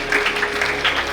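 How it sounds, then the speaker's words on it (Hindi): Audience applause at a Vaishnav gathering in Ahmedabad, a short burst of dense, steady clapping from a crowd with no speech over it. "तालियों से जोरदार स्वागत करें।"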